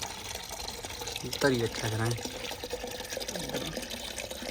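Water runs steadily into a container for pigeons, a continuous splashy hiss close by, while someone speaks briefly over it.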